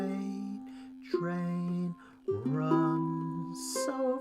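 A ukulele plucks the opening two measures of the Freight Train melody, single notes and small chord shapes ringing clearly at moderate volume, with a brief pause midway and a quick strum near the end.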